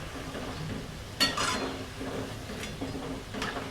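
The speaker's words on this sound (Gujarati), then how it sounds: "બધી સાઈડ ફેરવતું જવાનું એકદમ ક્રિસ્પી થાય ને ત્યાં સુધી તરવાનું" Masala sticks deep-frying in hot oil over a medium gas flame: a steady, moderately quiet bubbling sizzle with a few sharper stirring clinks and splashes at intervals.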